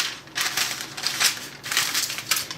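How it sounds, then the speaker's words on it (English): Parchment paper folded over and crinkled by hand while lining a tray for cream cheese cookies, giving a run of close, crisp crackling bursts in two main clusters with short pauses between. "we're going to fold the parchment paper over"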